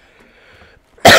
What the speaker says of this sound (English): Now I have to clear my throat.